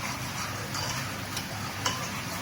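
Spice masala stirred in a cooking pan for chicken gravy, a steady low scraping and soft sizzle with a few faint ticks of a spoon against the pan and no voices.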